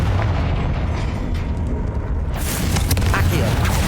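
A Confringo fire spell bursts with a sudden explosive whoosh partway through, loud and broad, following a stretch of game combat rumble in Hogwarts Legacy on PC.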